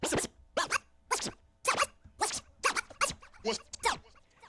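Rapid turntable scratches in a steady rhythm, slices on both sounds, about nine sharp bursts of vinyl slicing back and forth, loud and close, with no talking.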